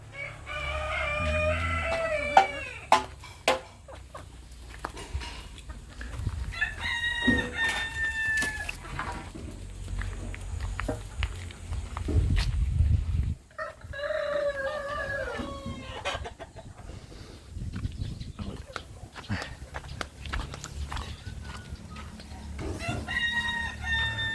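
Native chickens cluck in a backyard while a rooster crows in repeated bursts, the calls rising above steady low background noise, with occasional clucks between crows.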